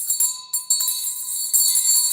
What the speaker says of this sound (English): Let me ding this bell.